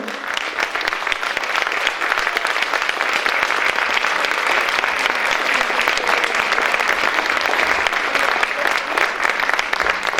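A crowd applauds performers walking onstage at a Turkish aşık folk minstrel showcase, continuous loud clapping that holds evenly throughout without fading.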